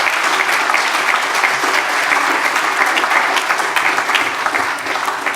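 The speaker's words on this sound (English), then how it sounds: "please give a big clap to this wonderful band which accompanies you" Conference audience at DLD Europe in Brussels applauding the accompanying band, a loud, continuous wash of many hands clapping close by, steady for the whole stretch with scattered sharper claps standing out.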